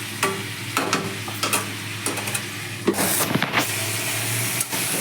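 Vegetables with green chillies fry in a pan for a Bengali prawn and drumstick chorchori, a continuous close sizzle with scattered knocks and scrapes of stirring and a brief louder burst midway.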